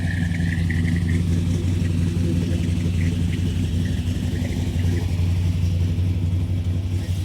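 A 1968 Ford Torino GT with a 427 Side Oiler V8 on dual quads idles steadily up close, giving a loud, even, throaty rumble that holds without a break from start to finish.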